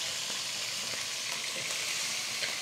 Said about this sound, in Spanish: Ya que el pollo se selló por un lado, hay que voltearlo, miren, para que se vaya sellando también por el otro.